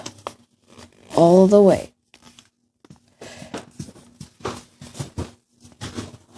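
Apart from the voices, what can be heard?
folding an origami paper boat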